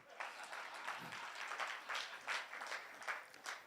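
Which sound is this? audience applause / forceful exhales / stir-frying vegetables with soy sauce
audience applause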